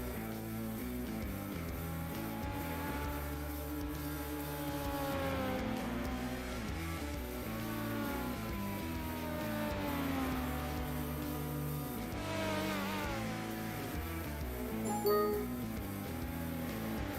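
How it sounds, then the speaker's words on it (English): Race cars in a racing video game drone and whine continuously as they circle the track, engine pitches rising and falling through laps, a steady mid-level background roar with no talking. "I know you guys can hear the cars in the background."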